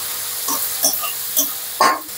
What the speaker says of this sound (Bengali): রসুনটা একটু ভেজে নিয়ে পেঁয়াজ কুচিগুলো দিয়ে দিচ্ছি।